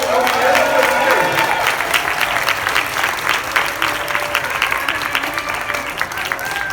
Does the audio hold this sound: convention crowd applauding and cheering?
yes